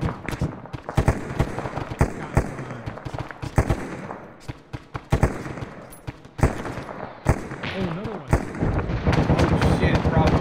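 Rapid volleys of rocket airburst explosions and gunfire in the Arma 3 military game, dense irregular bangs and cracks rolling over several seconds, loud and continuous with a voice talking under the barrage.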